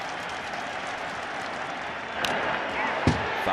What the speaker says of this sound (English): Cortez gets ahead of Hedges 1-2, and much of the crowd comes to its feet at Yankee Stadium.